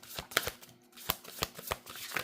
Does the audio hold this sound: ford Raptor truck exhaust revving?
no